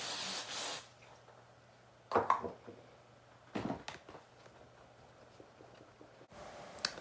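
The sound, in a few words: hairspray being sprayed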